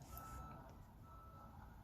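A vehicle's reversing alarm beeps outdoors in a steady repeating pattern, moderately distant, over a low rumbling background hum with no talking.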